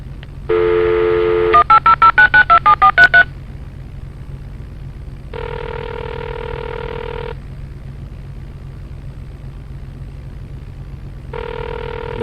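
Telephone in Flight Simulator X: a dial tone, a quick run of about eight touch-tone keypresses, then two separate ringback tones with pauses between, clear and alone over low engine hum.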